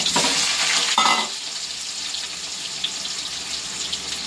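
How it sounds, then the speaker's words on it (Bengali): Potatoes fry in a home kitchen pan with a steady, close hiss of hot oil, louder in the first second and easing into a softer continuous sizzle; no one speaks. "এখন আলুটা ভাজা করে নেব।"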